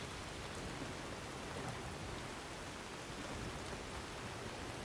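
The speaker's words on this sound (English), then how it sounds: "Now it's raining." Steady rain in the video game Skyrim, a constant even hiss of falling drops on surfaces filling the whole stretch, with no voices and no distinct thunder.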